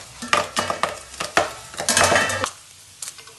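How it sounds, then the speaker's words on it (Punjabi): Sabudana (tapioca pearls) frying in hot oil for homemade namkeen, with bursts of sizzling and metal stirring scrapes against the pan, loud and close, ending in quieter crackle. "ਤੇਲ ਨਾ ਪੂਰਾ ਗਰਮ ਹੋਣਾ ਚਾਹੀਦਾ ਹੁਣ ਆਪਾਂ ਇਹਦੇ ਵਿੱਚ ਆ ਪਾ ਦਿਆਂਗੇ"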